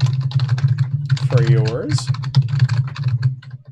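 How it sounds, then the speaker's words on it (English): Rapid, dense typing on a computer keyboard, a constant clatter of close key clicks running the whole time, with a low steady hum beneath and a brief spoken phrase in the middle. "Furious typing."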